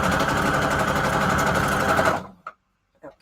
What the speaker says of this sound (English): Let me do a couple with the straight stitch actually.